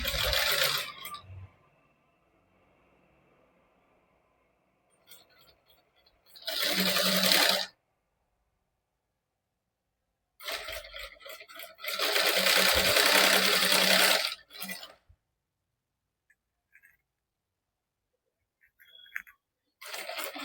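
Sewing machine stitching along the edge of a lining with the presser foot, for a princess-cut back-open blouse; two bursts of fast whirring run a few seconds each, separated by quiet pauses with faint handling clicks.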